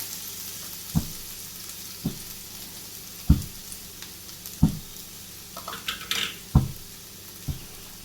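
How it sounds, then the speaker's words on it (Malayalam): Masala frying in hot oil in a pan for capsicum masala, a low steady sizzle broken by several sharp stirring scrapes and clinks at regular intervals, close and moderately loud with no talking. "ഈ മസാലയൊക്കെ നമുക്കൊന്ന് വഴറ്റിയെടുക്കാം"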